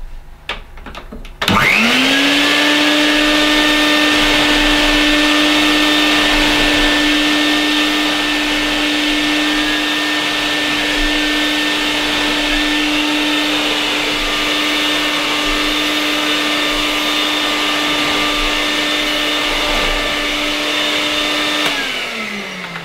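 A Vax 111 multifunction vacuum cleaner starts up with a rising whine, then runs loud and steady for about twenty seconds before switching off.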